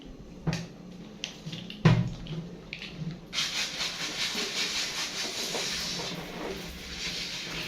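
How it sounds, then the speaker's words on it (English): Tap water pours onto a homemade water wheel, a few knocks and clunks at first, then a sudden steady rushing hiss of flowing water with a slight pulsing rhythm. "What happens when you turn the tap on to allow more water to flow?"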